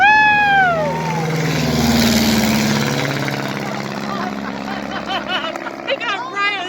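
A low-flying aircraft passes close overhead, its loud engine roar falling in pitch as it throttles down during the flyby, with excited voices talking and cheering over it.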